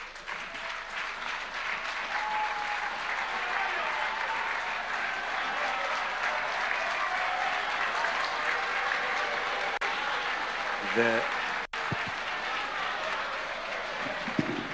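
A large crowd at a Kenyan political rally claps loudly and continuously, a dense, sustained wash of applause that keeps going for the whole stretch, with a few sharper bumps near the end.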